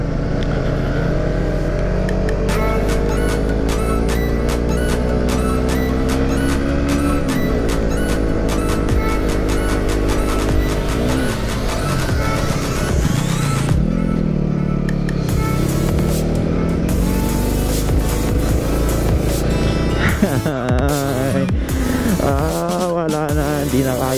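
A motorcycle rides hard in second gear at full throttle on a Valentine's Day ride, its engine loud and close, droning and climbing in pitch as it accelerates, then shifting and revving again near the end.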